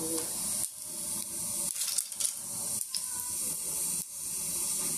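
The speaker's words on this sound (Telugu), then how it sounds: "ఆయిల్ వేసుకుందామండి బిర్యానీ ఆకు లవంగ యాలకు ఒక చెక్క" Bay leaf, cloves, cardamom and a piece of cinnamon sizzle in hot oil as the base for a Telugu-style mutton tomato curry. A loud, steady frying hiss runs throughout, broken by a few brief dips.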